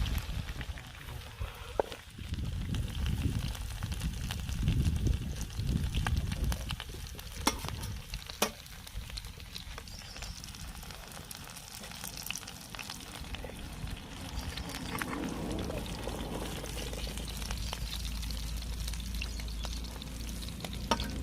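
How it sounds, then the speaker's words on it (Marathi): Prawn vadas fry and sizzle in oil over a wood-fired village chulha, a steady crackling bed with occasional clatters and low rumbling from the fire, with brief moments of talk. "आता आपण दुसऱ्या बाजूने थोडे थोडे भाजून घेऊया."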